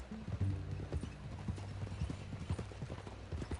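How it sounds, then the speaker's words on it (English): A horse's hooves clip-clop at a steady walking rhythm, moderately close, over a low continuous background tone. "That a new horse?"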